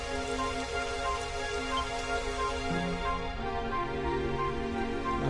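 Steady rain patters continuously in Dragon Quest XI over a soft, sustained musical tone, with no voices.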